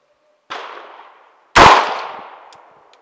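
Two loud rifle shots from an M4 sniper rifle at a training range, a lighter crack followed a second later by a heavier blast, each ringing out with a long echoing decay.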